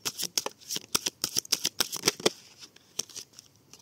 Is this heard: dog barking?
no